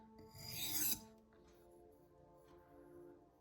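A MagnaCut steel knife edge is sharpened with one loud, rasping stroke lasting about a second, followed by near silence and a few faint scrapes.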